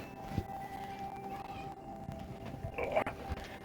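A house cat lets out a short, sharp squeak, a quick chirp-like call against a low background hum and light shuffling.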